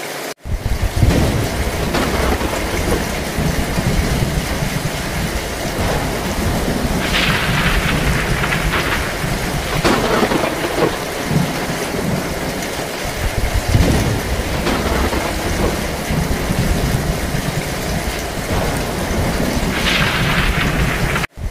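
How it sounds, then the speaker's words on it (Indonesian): Heavy, steady rain pours down with deep rumbles of thunder rolling through, a few louder cracks standing out over the constant downpour. "setelah itu, hujan pun turun begitu deras"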